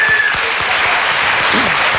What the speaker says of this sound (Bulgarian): Аплодисменти за Митко